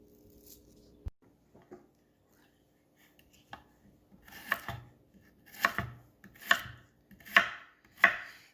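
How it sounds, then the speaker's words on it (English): Knife chopping potatoes on a board, a few scattered taps at first, then a regular run of sharp, close chops roughly one per second toward the end. "Get all these potatoes diced and sliced in uniform so it can all cook"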